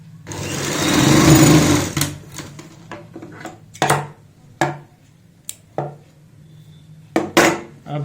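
Sewing machine stitching a joint into a fabric strip on a child's frock, a steady whirring run for about two seconds, then a series of short separate bursts, close and fairly loud, with no voices.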